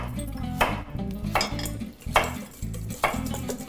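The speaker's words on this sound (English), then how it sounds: "So I'm gonna whisk this up" A whisk beating a simple sauce in a bowl, four rhythmic bursts of clattering strokes about a second apart, close and fairly loud with metal tapping the sides, no voices.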